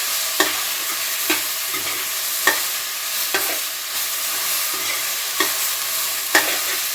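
Tomato pieces fry in a pan with a constant soft sizzle, while a spoon scrapes through them in regular strokes about once a second.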